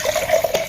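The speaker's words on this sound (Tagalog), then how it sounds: "Lagay ka tubig." Tap water splashes into a container in a brief, close, fairly loud pour with small gurgling bursts.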